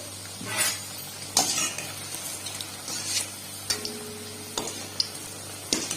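Badusha dough pieces frying in medium-hot oil, a few at a time, giving a low steady sizzle broken by scattered clinks and scrapes of a utensil against the pan.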